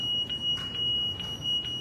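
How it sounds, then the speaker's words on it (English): A security alarm at a Target store sounds a steady, shrill electronic tone that swells and dips slightly in loudness, with faint background noise and no talking. "We set off the alarms, but no one's coming for us"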